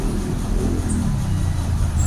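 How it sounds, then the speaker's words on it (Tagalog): Heavy road traffic heard up close, a dense, continuous low rumble of cars and buses with a faint high hiss above it and no talk. "Dito, napaka-traffic dito."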